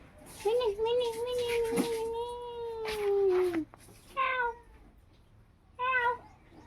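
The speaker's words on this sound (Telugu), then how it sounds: "పిల్లి పిల్లి కొరుకుతుంది" A cat meows: one long, drawn-out wailing meow, then two shorter meows after pauses. Close and loud.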